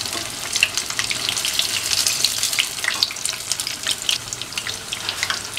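Cheese corn rolls, an Indian appetizer, frying in hot oil, with a loud, dense, continuous crackling sizzle that carries on without pause or voices.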